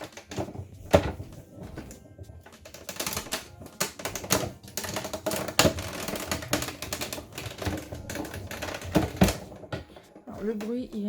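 A paper die-cutting machine runs a scrap of patterned paper through its rollers with a loud, uneven clattering and thumping over about ten seconds, close by, with no talk, the noise easing off near the end.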